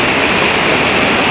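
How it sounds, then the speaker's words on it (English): Waterfall at Ketetahi Falls, New Zealand, roaring in a steady, dense rush of white water that stays loud and unbroken throughout, with no voices. "And enjoy the amazing waterfall."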